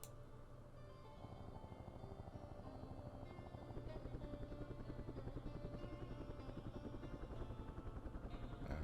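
Helicopter gunships in the Vietnam war game Campaign Series Vietnam, a steady, loud rotor chop with a pulsing beat and engine whine running throughout, with no voices.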